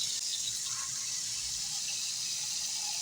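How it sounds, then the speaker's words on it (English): Cold water runs from a tap into a colander set in a large bowl, a steady, even splashing hiss that lasts the whole time, heard close with no speech. "Put it in a colander in a large bowl and run cold water until it fills up."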